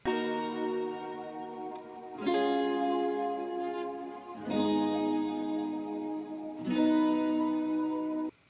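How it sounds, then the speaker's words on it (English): A wet, reverb-soaked sustained sample in an afropop beat: four long harmonic swells, each starting sharply around every two seconds and ringing out with a lush processed tail, playing alone. "As you can see, that just has reverb. It's been processed a little bit"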